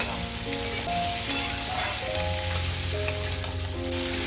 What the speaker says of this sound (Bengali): পেঁয়াজগুলো প্রায় কিন্তু একটু হালকা করে ভেজে নিয়েছি